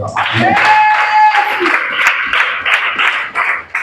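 A church congregation claps and cheers in acclamation of Jesus during a fervent French-language sermon, a dense, continuous crowd sound with a sustained whistle-like tone and voices mixed in.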